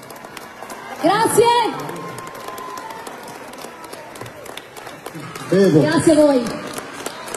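Audience applause for a singer at a 50th birthday party: a steady wash of clapping runs in the background while voices speak over it twice.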